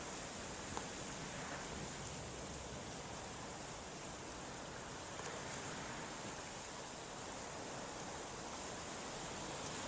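Steady, broad wash of ocean waves breaking against rocks, continuous and fairly distant with no distinct individual crashes, and no voices.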